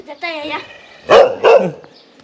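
A village dog in rural Thailand near the Myanmar border barks twice, loud and close, after someone speaks at the start.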